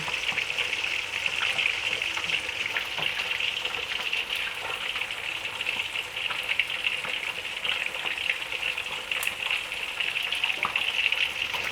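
Tilapia and catfish frying in hot oil, a steady dense sizzle with crackling pops running continuously and loud throughout, no voices.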